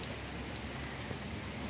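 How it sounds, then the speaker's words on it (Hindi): Steady rain falls on a rooftop and potted plants, an even, dense hiss of drops that continues unbroken and fairly soft throughout. "और बारिश बारिश बारिश, ये अभी इस गर्मी में चौथी बारिश है।"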